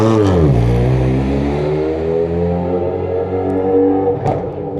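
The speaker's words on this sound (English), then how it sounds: "Because I want to hear the engine. It's very loud inside, you'll hear." Loud BMW car engine accelerating, heard from inside the cabin: a strong, continuous revving drone that climbs in pitch and holds steady for about five seconds, with no talking.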